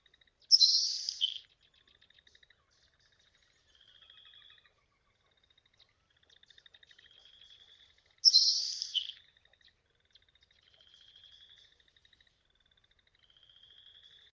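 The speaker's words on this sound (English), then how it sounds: "I did have a nice recording of, a LeConte and a Nelson sparrow with not much else going on, and both of them fairly close" A LeConte's sparrow and a Nelson's sparrow sing fairly close in a marsh. Two loud, buzzy, hissing bursts come several seconds apart, and thin high ticking and faint trilling notes fill the quiet gaps between them, with no voices.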